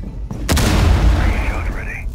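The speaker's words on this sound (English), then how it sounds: "Breaching charge deployed." A breaching charge going off in Rainbow Six Siege on a yacht map: one loud, close blast followed by a rumbling boom and a whooshing tail, with game ambience underneath.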